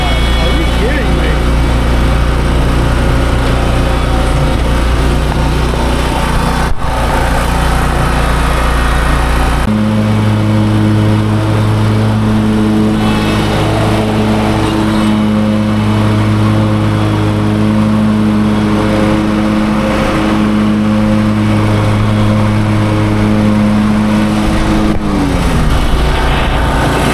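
Two workers running leaf blowers nearby, producing a loud, continuous engine drone with steady tonal hum that shifts pitch partway through and drops near the end.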